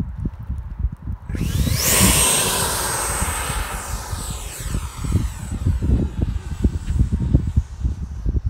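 A Freewing Hawk T1 RC model jet makes a maiden flight, its electric ducted-fan whine rising into a loud close pass then fading, over steady wind buffeting on the microphone at an outdoor field.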